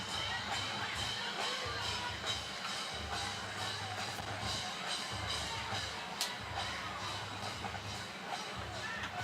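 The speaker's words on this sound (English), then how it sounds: "Great crowd still here at Hamilton High cheering on our Big Blue." A crowd cheers and murmurs steadily at a high school football game at Hamilton High against Mason, a dense, continuous wash of voices and babble in an outdoor stadium.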